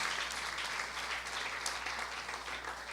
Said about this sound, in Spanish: Aplaude al Señor en esta preciosa mañana.